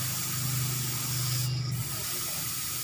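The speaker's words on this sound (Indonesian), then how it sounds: "Oke, kita buang anginnya." Compressed air rushes out of an air compressor's storage tank in a continuous, fairly close hiss, with a low hum underneath and a brief dip partway through.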